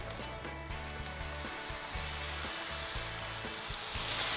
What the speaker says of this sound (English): now deglaze all of those yummy bits off the bottom of the pan